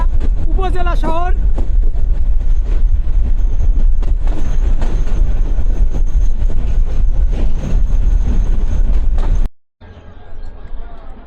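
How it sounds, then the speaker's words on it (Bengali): The Dolonchapa passenger train rolls into Kaunia railway station in Rangpur district with a loud, continuous rumble of wheels and carriages, a horn-like blast near the start, before the sound abruptly cuts to quieter noise. "ট্রেনটা এখন কাউনিয়া রেল স্টেশনে প্রবেশ করতেছে"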